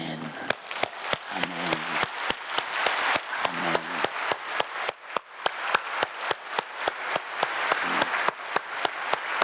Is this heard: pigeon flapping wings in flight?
no